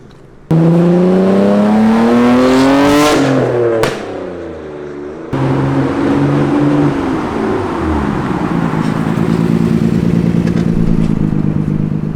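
A loud Nissan Skyline R32 engine revs up hard, dips briefly, then roars again and holds a steady high idle, close by.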